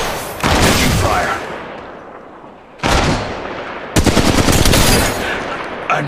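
Automatic gunfire from Apex Legends Mobile, loud bursts of machine-gun fire in several rapid volleys with brief lulls between, close and intense.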